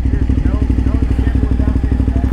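A KTM 990 Adventure motorcycle engine idling close by, with a steady throbbing pulse and some mechanical clatter, heard on its own.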